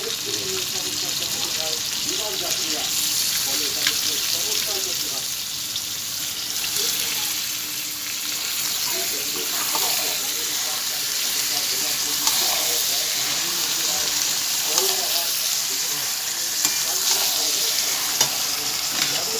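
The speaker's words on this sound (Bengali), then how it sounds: "মশলা কষানো হয়ে গেছে দিয়ে দিচ্ছি আমি মাংসটা" Meat going into a pan of fried spices for a Bengali meat curry, with steady close sizzling and stirring throughout, and faint speech underneath.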